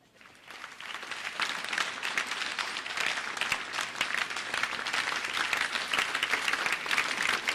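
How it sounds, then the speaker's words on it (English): A crowd applauds steadily and loudly as Mother Earth is brought forward to a podium, dense clapping swelling after a quiet start and holding through to the end with no speech. "everybody can stop pretty clapping now"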